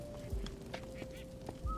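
Brief duck quacks from a modded Minecraft game play over a low, steady ambient hum, a few short calls spaced across under two seconds, fairly quiet.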